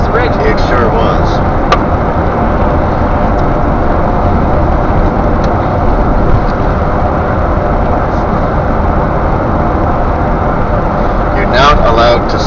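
Car cruising at about 80 km/h across the Confederation Bridge in winter, with continuous loud road and engine rumble throughout; voices talk intermittently over the noise.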